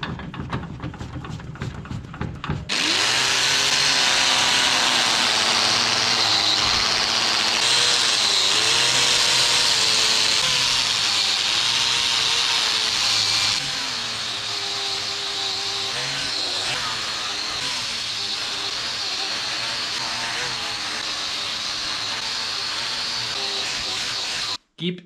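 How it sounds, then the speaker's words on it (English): A Vevor MIG-250 welder laying a MIG bead gives a steady, close, crackling hiss that starts after a brief pause and runs unbroken for about 22 seconds, with a voice faintly underneath. "the other side I will weld with the Vevor welder"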